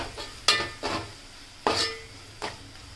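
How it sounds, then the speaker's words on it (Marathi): Garam masala being stirred into frying onions in a pan while cooking a dry fish curry: a few distinct scraping stirs, about four strokes spaced irregularly, over a faint steady sizzle, close by and without talk. "आता आपण हे मसाले चांगले कांद्यामध्ये मिक्स करून घेऊयात।"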